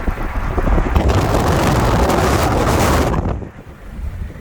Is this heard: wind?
yes